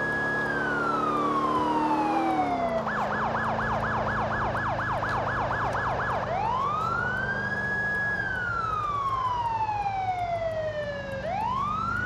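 A police car siren from GTA IV LCPDFR wails loud and close, sweeping through long rising and falling tones broken by a rapid yelp section, over a low engine hum.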